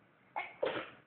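A single sneeze, close and moderately loud, with a short sharp onset followed by a breathy burst, no talking around it.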